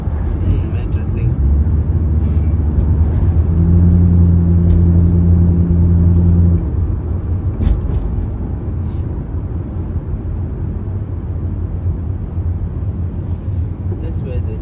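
A Lexus engine idles with a steady low rumble and a sustained hum that drops slightly partway through, while people talk close by.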